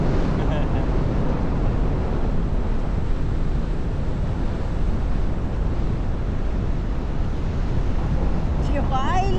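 Loud, constant wind noise buffets the microphone during a weekend motorcycle ride to Dingalan, Aurora, a dense roaring rush throughout with a faint voice near the end.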